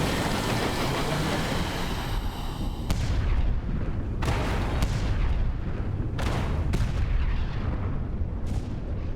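Heavy gunfire rings out while shooting at a creature in the video game Sunless Skies, a run of loud booming shots spaced a second or two apart over a constant rumbling engine drone, with no talking.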